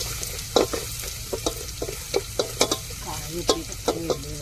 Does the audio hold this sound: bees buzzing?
no